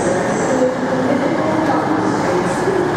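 Class 57 diesel locomotive 57302 at London Euston station, a loud, steady engine drone and rumble with a hum that stays close and constant throughout.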